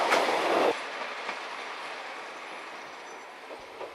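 An X2800 railcar with an 825 hp engine runs along the Cévennes line, wheels rumbling and clicking over rail joints under a steady roar, a brief louder burst at the start then settling into continuous travel noise.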